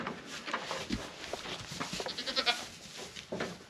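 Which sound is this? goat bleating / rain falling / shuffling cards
goat bleating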